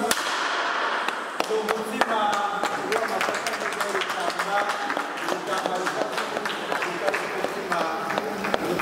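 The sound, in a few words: applause, clapping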